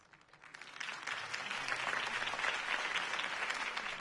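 Crowd applause from a Gotham campaign rally audience in Batman: The Telltale Series, swelling quickly after a moment of quiet and holding as steady, dense clapping with no voices on top.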